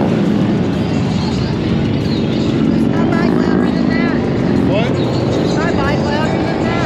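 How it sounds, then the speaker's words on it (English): Loud engine noise from bikes rolling past at Daytona Bike Week on a busy Sunday, a steady heavy rumble that runs the whole time with no letup, with a sweeping pass in the middle and people talking over it. "Is that bike louder than that?"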